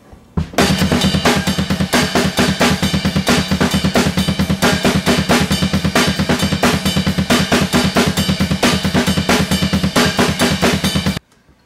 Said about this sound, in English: this is what you're going to sound like when you add that bell tip in there